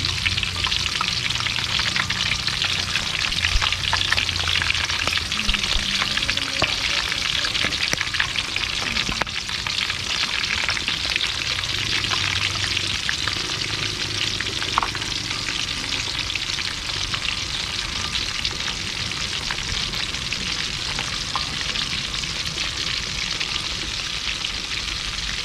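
Okoy shrimp fritters fry in hot oil with a steady, dense sizzle and crackle that runs unbroken and close, with no voices.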